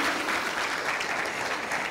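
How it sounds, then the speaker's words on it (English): Steady applause from a crowd at the launch of the Kenya Apple Growers & Exporters Association, continuous clapping at a moderate loudness for a couple of seconds with no voices on top. "Please clap for me."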